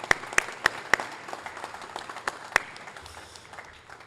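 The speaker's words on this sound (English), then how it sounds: "give yourself a round of applause" Audience at a 2022 WRO robotics event launch applauds, a scattering of sharp individual claps over a softer clapping wash that gradually fades.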